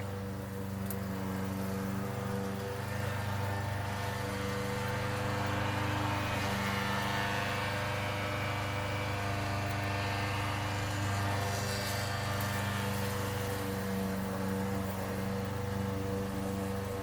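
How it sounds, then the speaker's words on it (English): A lawn mower cuts grass outdoors, its engine a continuous droning hum with steady tonal bands, moderately distant and unchanging for the whole stretch with no talking. "It's still warm enough outside that we have to mow our grass."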